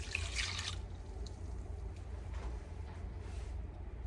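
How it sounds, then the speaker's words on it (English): Water poured into a saucepan of brown sugar on a stove at medium-high heat, a brief splashing burst at the start followed by a low steady background hum and faint drips. "And we're going to add our water"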